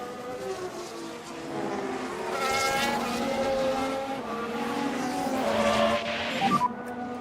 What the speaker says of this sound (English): That's Perez and one of the Audis, Lindblad, exiting the pits